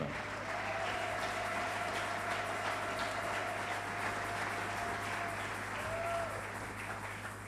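Church congregation applauding, a dense, even wash of clapping that holds steady for several seconds at moderate distance, with a faint tonal whine underneath.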